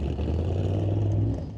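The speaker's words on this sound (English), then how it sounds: "I hear race cars" Drag race car engines at an NHRA Northwest National Open Series event, a sustained low engine drone heard from a distance, with a steady roar holding then fading slightly.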